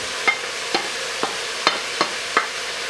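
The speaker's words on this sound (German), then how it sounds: "Und dann auch gleich das Hackfleisch, das wir jetzt mal anbraten." Minced meat frying in a pan with tomatoes, onions, garlic and ginger, heard as a soft steady sizzle broken by six evenly spaced scraping stirs of a spatula, close and fairly loud with no talking.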